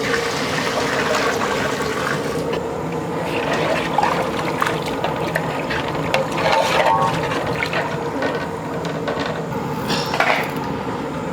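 Water pours and splashes steadily into a cooking pot, a continuous rushing, gurgling flow with occasional knocks, fairly close.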